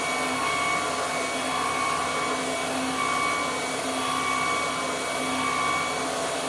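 An electric juicer machine runs steadily on cut-up fruit, giving a loud, even motor whine with a constant hum and no pauses, with no one speaking.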